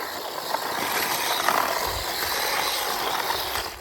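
A cheap 4-wheel-drive DEERC Sandy 1/18 RC car drives over snow and ice, giving a steady, close mechanical whirring and grinding from its small motor and gears. The sound is continuous, with light crunching from the surface, across the whole stretch.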